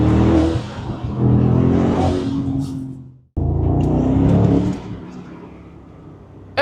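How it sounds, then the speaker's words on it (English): Mercedes-AMG SL 63 grand tourer accelerating hard with turbo spool, two loud close surges of engine roar separated by a sharp cutoff, each fading toward the end. "Every time you floor that accelerator, you hear that turbo spool"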